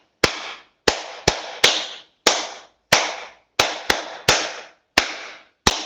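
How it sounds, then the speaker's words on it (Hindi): Applause for the yoga teacher after an online yoga session, sharp separate claps, about a dozen at an uneven pace, each loud and close with a short decaying ring, like one person clapping near the microphone. "जोरदार तालियों से अभिनंदन करें आदरणीय काका जी का।"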